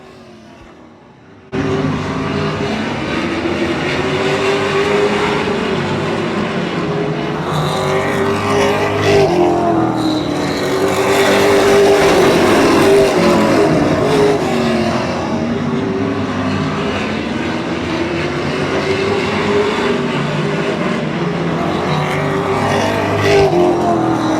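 Pro stock race cars roar around the tricky inside groove at Oyster Bed Speedway, a dense, steady engine drone that kicks in loudly after a brief quiet start and holds for the rest, swelling slightly as cars pass.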